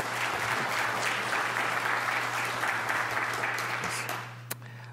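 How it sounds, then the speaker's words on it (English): Conference audience at a liver transplant meeting applauding a colleague, a steady dense wash of clapping that holds for about four seconds before tapering off, with a low steady hum underneath. "Let's give her a round of applause."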